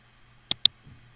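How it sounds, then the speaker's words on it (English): Two quick, close computer mouse clicks about a beat apart, sharp and distinct against a quiet background, followed by a soft faint rustle. "you can click on the trip with the mouse"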